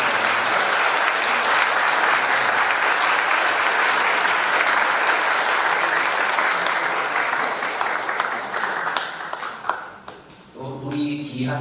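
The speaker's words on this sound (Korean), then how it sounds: "박수로 뵙겠습니다" A church congregation at an autumn pastors' fellowship evening service applauds visiting missionaries, dense sustained clapping filling the hall before tapering off, followed by a voice speaking.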